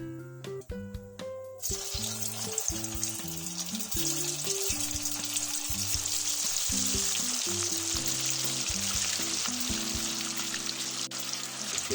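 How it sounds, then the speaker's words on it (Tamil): Meal maker balls dropped into hot oil and deep-frying, opening with a few splashy plops, then a loud continuous bubbling sizzle that holds steady throughout. "இப்ப மீதி இருக்கிற உருண்டையெல்லாம் போட்டு பொரிச்சு எடுத்துக்கலாம்."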